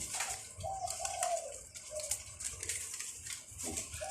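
A zebra dove gives a series of soft, rolling coos in close succession, near and clear over faint background noise.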